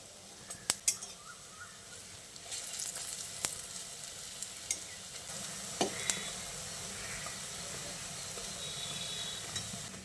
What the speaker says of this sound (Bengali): বড়াগুলোকে উল্টে পাল্টে লাল লাল করে ভেজে নেব